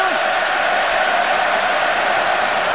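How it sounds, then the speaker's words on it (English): A packed stadium crowd at the 2005 Wales versus New Zealand rugby union match gives off a steady, dense roar of noise from all around. There are no distinct peaks in the roar. "they've got the crowd making the noise again"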